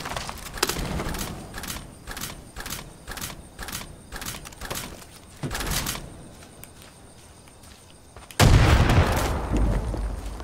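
Explosions and gunfire in the video game Far Cry 5: a rapid string of sharp, evenly spaced shots, a brief lull, then a heavy booming blast that rumbles on loudly to the end.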